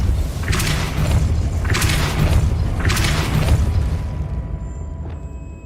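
Three heavy magical blasts in a fantasy game, each a loud whooshing boom roughly a second apart, followed by a fading tail and a faint ring.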